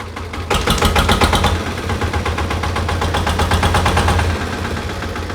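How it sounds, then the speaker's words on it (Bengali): An old 20-horsepower diesel engine cranks and catches with a burst of loud, rapid knocking, then settles into a steady, rattling chug close by. "ইঞ্জিনটা একটু স্টার্ট দেবো এই যে দেখেন একদম কন কন ইঞ্জিন"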